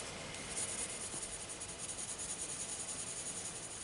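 A coloured pencil held slanted and barely touching the paper shades very lightly, a soft steady hiss of continuous scratchy strokes, faint and close, with no talk.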